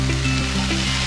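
Onions and green chillies sauté in a pan as cauliflower goes in, a steady close sizzle with faint stirring and no talk over it.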